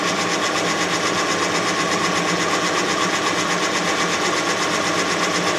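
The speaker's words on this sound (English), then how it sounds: "The bar progresses at a set speed down the cylinder bore, so it cuts all of the cylinder walls to a pretty nice finish." A boring bar machine cuts through an engine cylinder bore during a re-bore, giving a loud, steady mechanical drone with a fine rattling texture that runs unbroken from start to finish, with no talk over it.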